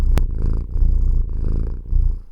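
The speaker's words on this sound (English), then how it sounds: "I think you guys are gonna hear my cat in this one." A cat purring right next to the microphone, a loud, continuous low rumbling with a steady rhythmic pulse, close and alone.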